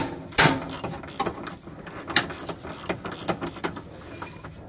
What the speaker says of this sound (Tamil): நான் புல்லர் போட்டு தான் இப்போ நான் வெளியே எடுக்கிறேன்.